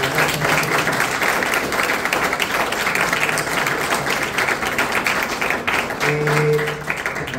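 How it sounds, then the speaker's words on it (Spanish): An audience at a book launch gives sustained applause, many hands clapping steadily and fairly loudly for several seconds, with a faint voice near the end. "otro aplauso, por favor"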